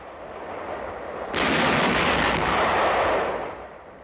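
Wartime gunfire aimed at enemy barges on the Rhine near Dusseldorf breaks out as a sudden heavy roaring burst of blasts that sustains for about two seconds before fading, with a low rumble beneath.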